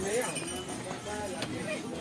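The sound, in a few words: horses' hooves clip-clopping on the path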